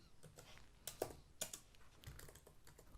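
Keys clack on a computer keyboard in short irregular bursts, quiet and close, with a few sharper taps standing out as a phrase is typed in.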